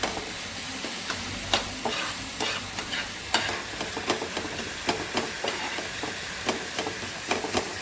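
Potatoes and cauliflower fry in a pan at home, giving a constant close sizzle and hiss. A utensil scrapes and clacks against the pan in irregular stirring strokes, and no voices are heard.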